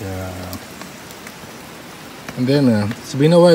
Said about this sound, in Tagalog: yung patak ng ulan sa tarp mo sa iyong tent